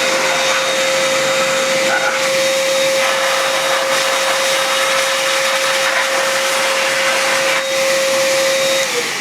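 An Oreck XL Compact canister vacuum cleaner runs with its hose attached, giving a loud, steady motor roar with a constant high whine throughout and no breaks.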